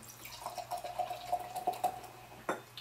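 Green Flash Silva Stout beer poured into a glass, a soft gurgling, dripping trickle of liquid close by, faint and fluttering, ending in a brief splash.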